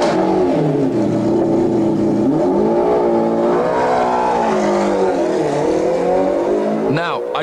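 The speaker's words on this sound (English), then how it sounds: "there's no better sound than that BMW V12" McLaren F1 GTR race car with its BMW V12 engine revs loudly on a track, pitch climbing and falling through gear changes, close and dominant, with a sharp rising whine at the end.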